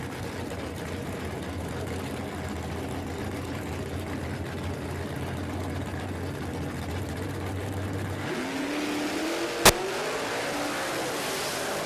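A drag racing car at Warwick Dragway runs as a continuous engine roar with a shifting pitch near the end and a sharp brief spike, under a commentator's voice.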